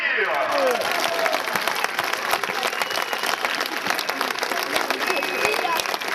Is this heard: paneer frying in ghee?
no